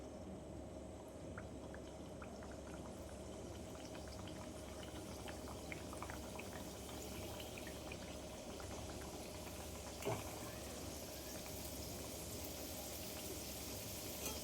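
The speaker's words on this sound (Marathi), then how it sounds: "मी तेलामध्ये समोसा तुम्हाला सोडून दाखवते" A samosa frying in hot oil, a steady, quiet bubbling sizzle that holds evenly throughout, with one faint clink partway through.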